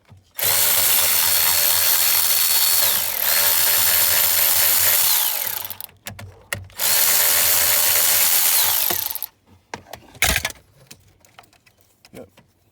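A power drill spins loudly and steadily in two long runs with a short break between, while removing the ignition switch on a 1997-2003 Ford pickup or Expedition, followed by a few faint clicks and a brief thump.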